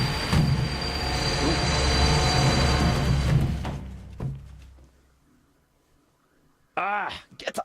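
A train in the video game The Raven rolls along with a loud, steady rumble and clatter that suddenly drops away into near silence, with voices speaking briefly at the end.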